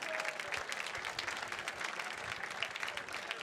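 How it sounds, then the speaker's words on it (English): Steady applause from a crowd at a gala evening for outdoor adventurers, welcoming first-time attendees; dense, continuous clapping fills the whole stretch at moderate level with a faint murmur of voices beneath. "How about a big round of applause for our new friends?"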